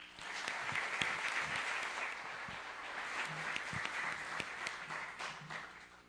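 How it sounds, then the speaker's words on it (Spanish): An audience at a computing round-table panel gives sustained applause to welcome the panelists, a dense even clapping that holds for several seconds and tapers off near the end. "También recibámoslos con un aplauso, por favor."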